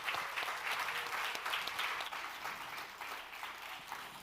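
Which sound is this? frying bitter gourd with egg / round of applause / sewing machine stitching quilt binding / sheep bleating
round of applause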